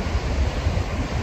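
Strong wind and big ocean waves on a beach in Timika make a loud, continuous roar with low rumbling, heavy buffeting and no voices.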